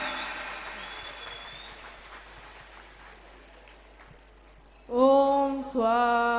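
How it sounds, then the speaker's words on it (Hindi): Clapping from a gathered crowd at a Hindu wedding ceremony, moderate and fading gradually, then cut off as loud chanting or singing abruptly takes over near the end. "जोरदार तालियां एक बार"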